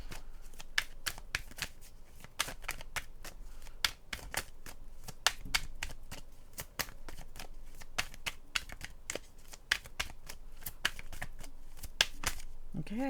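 Tarot cards are shuffled and drawn in a reading, with a long run of crisp, rapid card flicks and slaps close by, steady and rhythmic, under a speaking voice.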